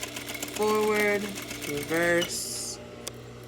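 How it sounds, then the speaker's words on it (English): Sewing machine stitching forward, then reversing, while mending a belt loop, with two short buzzing runs of stitching separated by a pause, close and moderately loud, with a voice speaking briefly. "So I'm going to start here, sew forward, reverse."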